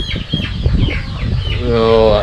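A rooster, the only cock kept among free-range country chickens, gives a loud, close clucking call under someone talking nearby, ending in a sustained tonal note.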